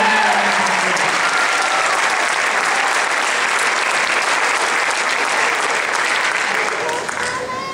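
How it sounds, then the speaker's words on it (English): A concert audience gives loud, sustained applause for the percussion section, a thick, even roar of clapping that carries on for several seconds and eases only slightly near the end. "applause, please, for our percussion section."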